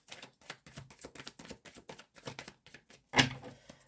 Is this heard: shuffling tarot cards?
yes